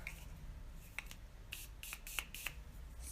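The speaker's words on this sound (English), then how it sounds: "Spray it" Short bursts from a spray bottle misting makeup product onto a brush, several quick hisses spaced over a few seconds, faint and close against a quiet room.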